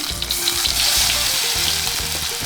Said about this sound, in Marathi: जिरं टाकायचं आहे थोडासा हिंग टाकायचा आहे कढीपत्ता टाकायचा आहे लसूण